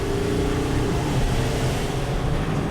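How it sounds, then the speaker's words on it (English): A Dodge Sprinter van with a P0299 turbocharger underboost fault hisses from under the hood while driving. The steady, broadband rush runs continuously over a low engine and road drone, with no talking. "There's a hissing sound coming from under the hood."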